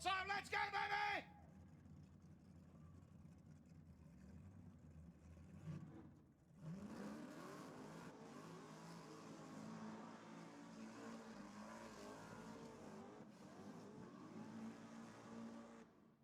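A methanol-fuelled burnout car revs hard and spins its tyres at a burnout event, a loud sustained engine roar with shifting pitch after a brief pause, with crowd noise beneath.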